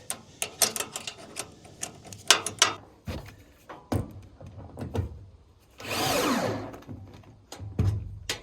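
A ratchet tightens a bracket on a trailer bed in bursts of quick clicking strokes, separated by short pauses and one longer whirring stretch, close up and moderately loud.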